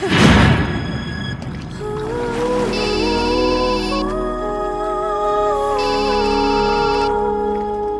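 An electronic phone ringtone plays a repeating melodic tune, loud and close, continuing for several seconds after a brief rustle at the start.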